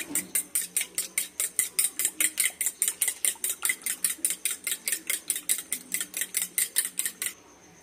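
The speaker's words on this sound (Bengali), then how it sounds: "দিয়ে ভালো করে ফেটিয়ে নেবো ডিমটা আগে" An egg with pepper and salt is beaten in a bowl with a fork or whisk, giving a fast, even series of bright clinking taps against the bowl for about seven seconds before stopping abruptly, close and with no voices.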